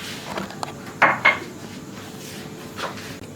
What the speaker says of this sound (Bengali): এবার লাগিয়ে দিলাম ঢাকা।